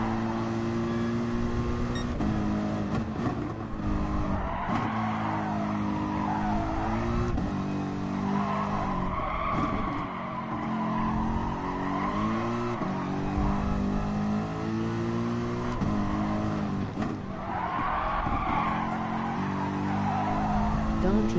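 Race car engine in the GT Sport video game on a time trial lap, revving hard and continuously through the gears with rising and falling pitch, loud and close, with occasional tire noise and no talking.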